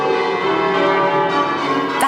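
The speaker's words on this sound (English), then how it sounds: "That's Bells on Sunday from the parish church of St. Peter in Tiverton, Devon." Church bells ringing at St. Peter's parish church in Tiverton, Devon, a dense sustained peal of overlapping tones, loud and steady throughout.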